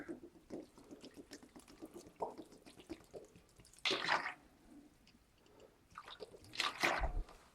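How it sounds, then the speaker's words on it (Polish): Water is poured into stiff, dry bread dough, followed by wet squelching as the dough is mixed by hand. The pouring and kneading sounds are faint and close, with no talk. "Dolewamy wody."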